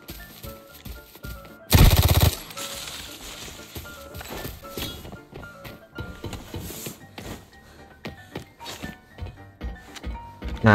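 Burst of automatic gunfire in the tactical shooter Arena Breakout, a loud rapid volley near the start followed by scattered shots and game sounds, no talk over it.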